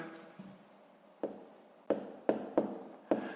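A pen or pencil writes numbers by hand on paper for column multiplication, producing about half a dozen short, sharp scratching strokes close up in a quiet room.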